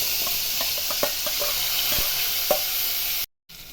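Steady, loud sizzling of curry leaves dropped into hot oil with mustard and cumin seeds, a few crackling pops, then a brief sudden silence near the end.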